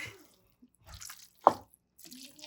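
A kitchen faucet is shut off after cooking potato dumplings, giving a few short splashes and drips with one sharp splash near the middle, then quiet.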